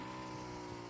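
A motorcycle engine in PUBG Mobile hums in a brief, steady, even drone at moderate volume, with no talk over it.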